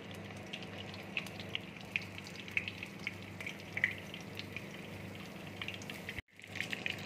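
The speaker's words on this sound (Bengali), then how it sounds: "ঘিটা গরম হয়ে গেছে, এবার আমি পটলগুলো দিয়ে দিচ্ছি" Pointed gourd (potol) frying in hot ghee gives a steady low sizzle with soft crackles and pops scattered throughout, broken by a brief near-silent gap close to the end.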